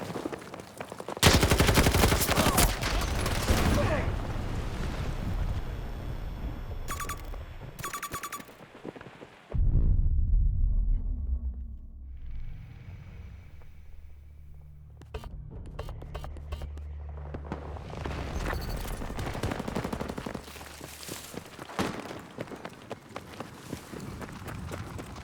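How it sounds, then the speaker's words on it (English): Rifle shots and gunfire bursts crack loudly in a video game battle, coming in dense stretches separated by a quieter pause, with movement sounds in between. "Alright, let's try this with a rifle."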